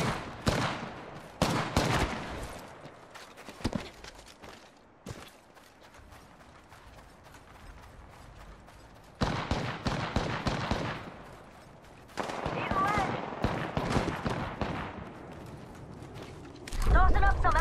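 Gunfire in the Apex Legends video game comes in rapid automatic bursts separated by quieter stretches, with game sound effects and footsteps, while a player talks throughout.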